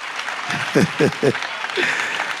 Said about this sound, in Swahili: Makofi tafadhali ya kizungu.